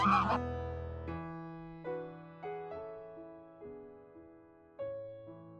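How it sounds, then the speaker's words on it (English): Ducks and geese at a pond call out in winter, a loud burst of honking and quacking followed by a series of separate nasal honks spaced about a second apart, near and clear. "the apparent turf war between the ducks and the geese"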